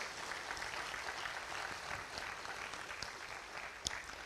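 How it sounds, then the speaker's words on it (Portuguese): Steady applause from a symposium audience in a hall, dense even clapping continuing throughout at moderate distance with no talk over it. "Peço uma salva de palmas para os meus oradores."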